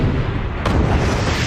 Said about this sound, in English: So now I must destroy it manually using this conveniently placed turret.